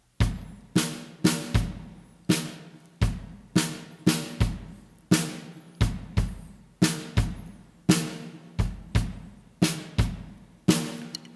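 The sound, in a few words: jazz trio moving from warta nus to ballady rhythm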